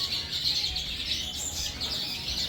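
Siskins and redpolls, including mini and lesser redpolls, chirp and twitter continuously in an aviary, a dense overlapping chorus of thin high calls at moderate distance.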